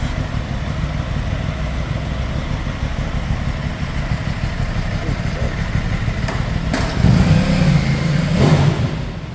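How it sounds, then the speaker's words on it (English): An Aprilia motorcycle engine roars nearby, a steady loud drone that swells into a stronger rev toward the end, set among passing traffic. "That was an Aprilia."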